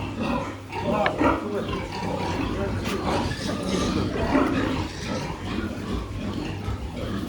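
Loud grunting and snorting from a large boar, continuous and rough, with people talking nearby.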